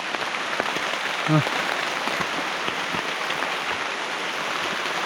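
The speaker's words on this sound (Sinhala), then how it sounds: "මෙහෙම වර්ෂාපතන යනවා." Heavy rain pours steadily on a forest trail on the route to Sri Pada, a dense, even hiss with scattered drops, and a brief low voice cuts in once.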